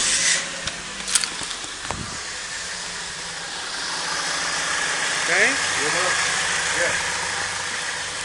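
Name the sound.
car engine idling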